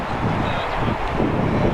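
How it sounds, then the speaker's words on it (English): Gusty wind buffets an outdoor microphone, producing a loud, low rumbling roar that fluctuates continuously throughout the short stretch. "Hopefully the microphone is doing its thing, because it is a bit windy."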